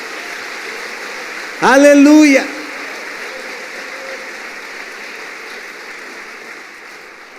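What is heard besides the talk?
church congregation applause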